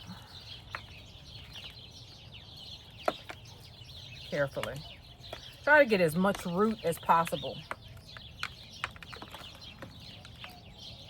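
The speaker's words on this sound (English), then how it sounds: "Listen to them birds." Chickens clucking in a garden during pepper-plant repotting, a burst of several close clucks and squawks in the middle amid quieter background chirps, with a person talking nearby.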